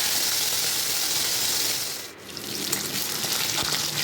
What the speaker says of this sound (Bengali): দিয়ে মাছগুলো আমি ভেজে তুলে নিচ্ছি